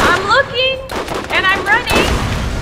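Borderlands gunfire bursts in rapid volleys, loud and close, mixed with game effects and a voice talking over the shots.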